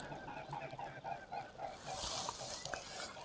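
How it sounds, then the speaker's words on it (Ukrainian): Swans fly overhead on a lake during a pike fishing trip, giving repeated honking calls at a moderate distance over outdoor ambience. "Дивіться, лебеді літають."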